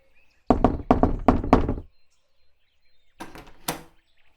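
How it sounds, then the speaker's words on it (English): Knocking on a front door: a quick burst of four or five firm, close raps, a pause, then two or three more knocks, with quiet between and no talk. "He was expecting to be paid and knocked on the front door."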